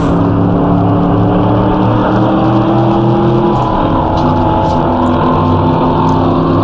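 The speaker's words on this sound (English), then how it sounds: "you can hear the engine from my teammate's car here" A loud, steady race car engine from the video game Assetto Corsa drones close by, holding a high rev with little change, no voices.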